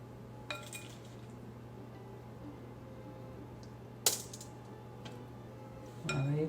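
A metal spoon clinks a few times against a lined baking pan while blueberries are spooned out for individual blueberry crisps. The clinks are short and sharp, at about half a second, four seconds and six seconds, over a steady low hum.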